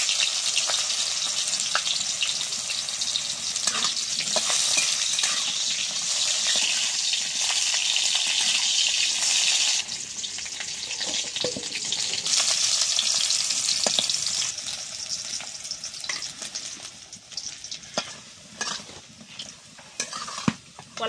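Raw green banana frying in hot oil in a wok, a loud, continuous bright sizzle with occasional stirring scrapes, easing off and turning more crackly and uneven toward the end.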